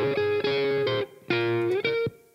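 A short distorted guitar phrase of a few sustained notes, played without delay effects, with clean, abrupt stops and no echo trailing after each note.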